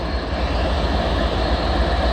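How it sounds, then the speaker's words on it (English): Train working in a rail yard, a steady broadband rumble of rolling stock and locomotive noise, loud and continuous without talk. "Why are we seeing this train again"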